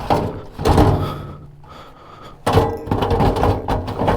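Heavy doors being hauled open in a space under a bridge, with two loud bursts of thudding and scraping separated by a quieter pause, close by and without talk.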